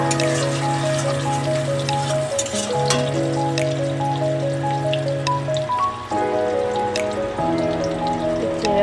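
Onions crackle and sizzle in hot oil over a sustained droning tone, with scattered pops throughout.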